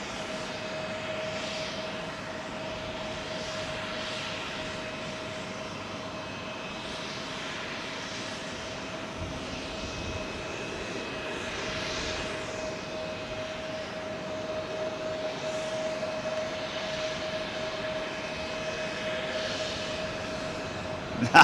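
A Lufthansa jet airliner at London Heathrow runway 27L gives off a steady, fairly distant engine roar with a sustained whine tone, holding even throughout and brightening slightly near the end.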